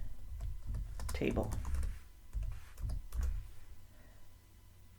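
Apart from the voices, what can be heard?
typing on a computer keyboard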